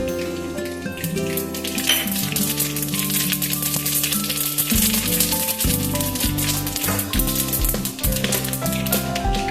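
A spoonful of white sesame seeds sizzles in hot oil already holding mustard seeds, dry red chillies, a bay leaf and asafoetida, tempering for Gujarati patra. A continuous close frying hiss with light rattling runs under background music.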